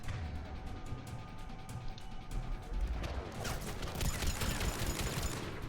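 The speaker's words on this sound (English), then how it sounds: "Now people are shooting us." Rapid gunfire crackles in a Mass Effect firefight, with dense overlapping shots and sharp cracks that build louder toward the end.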